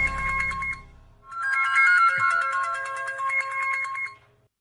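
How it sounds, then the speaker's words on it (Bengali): A mobile phone ringtone plays a bright electronic melody in a dramatic film scene. It breaks off briefly, resumes clearly and loud, then stops. "এই নে তোর মাটির পরীর ফোন"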